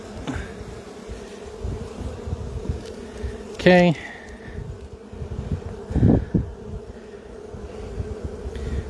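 Bees hum and buzz steadily around an open hive during a beekeeping inspection with smoker use, a continuous insect drone with brief louder passes near the microphone; a person says a short word.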